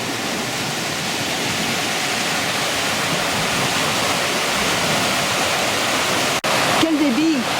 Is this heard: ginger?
no